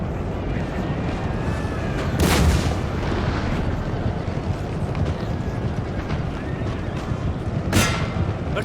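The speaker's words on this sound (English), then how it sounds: "Artillery present." Artillery fire in the video game Total War: Napoleon, two loud booming cannon blasts several seconds apart over a steady battlefield din of rumbling noise and distant clatter.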